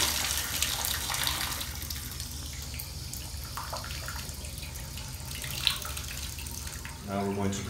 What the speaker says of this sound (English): pull the stem so that the water turns on